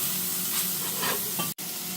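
A beef burger patty sizzles steadily in a frying pan after being flipped, a close, continuous crackling hiss with a couple of brief swells and one sharp momentary cut near the end.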